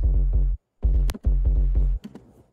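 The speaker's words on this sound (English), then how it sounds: "let me just play the sub by itself real quick for you so you can hear it" Deep synthesized sub bass notes from Serum in short rhythmic phrases with pitch-bend movement and brief gaps, heavily processed, tear-out style, playing alone without any voices.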